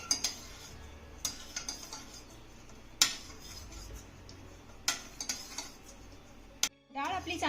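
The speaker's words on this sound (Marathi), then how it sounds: "आता ही डाळ ना चमच्याने छान अशी घोटून घ्यायची आहे" A spoon scrapes and taps against a pot as cooked lentils are mashed, with sharp clinks at irregular intervals over a low background, a voice starting at the end.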